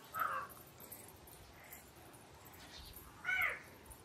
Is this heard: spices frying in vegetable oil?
no